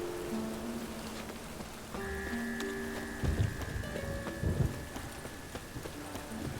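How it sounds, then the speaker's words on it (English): Steady rain from a thunderstorm in the video game Witcher 3, a constant wash of falling drops under sustained game music tones, with a couple of dull low rumbles near the middle. "Thunderstorm."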